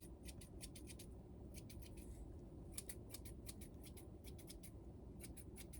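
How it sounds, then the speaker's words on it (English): Scissors cut a Bratz doll's hair in quick bursts of crisp snips, several rapid clusters over a low background hum, close and quiet. "I'm just gonna take my scissors and I'm gonna go for it"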